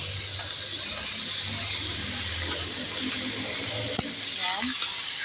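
Pechay stems sauté in hot oil in a pan for ginisang pechay with sardines, a steady bright sizzle with a clunk of a utensil near the end and faint stirring.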